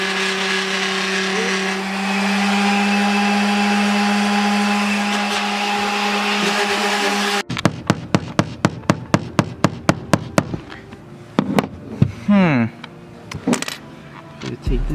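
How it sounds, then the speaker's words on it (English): A power sander works a hardwood trunk piece for a G37, giving a steady droning whine for several seconds, then a run of sharp tapping knocks while someone talks nearby. "we're just gonna sand his piece"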